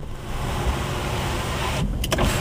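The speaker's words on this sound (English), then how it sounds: "And it's got the power sliding rear window." The power sliding rear window of a 2009 Ford F150 Platinum 4x4 pickup runs with a steady electric motor whine inside the cab, then stops with a couple of soft clunks near the end.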